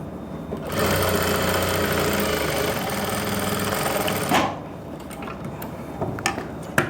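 An electric sewing machine stitches a half-inch-margin seam on trousers in a tailoring class, running loud and steady for about three and a half seconds, then stopping, followed by faint clicks and handling sounds.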